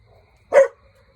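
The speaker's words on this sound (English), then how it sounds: "Quit that barking." A single sharp bark from a dog, loud and close, lasting about a quarter second with quiet surroundings before and after.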